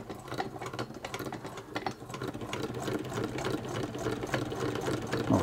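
A vintage Hexagon sewing machine made in Cleveland, Ohio, stitching steadily with a lengthened stitch setting: a rapid, even mechanical chatter of needle and gears running smoothly, close up and with no one talking.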